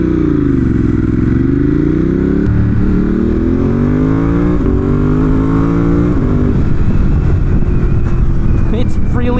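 A 2018 Ducati Monster 1200 S motorcycle engine accelerates hard through the gears, a loud close rising roar that drops at each shift and climbs again, with a steady rumble and wind noise underneath.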